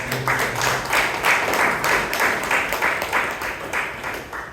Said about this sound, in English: Let us give a big round of applause for them.